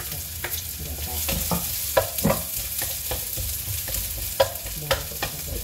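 Ingredients sautéing in a hot pan before coconut milk goes in, for a dish of moringa leaves with smoked fish: a continuous sizzle with repeated sharp scrapes and clacks of a utensil stirring against the pan.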